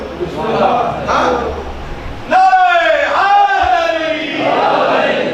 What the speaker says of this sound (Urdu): آپ نے نعرہ لگا کے بتا دیا کہ واقعی آپ کی توجہ ہے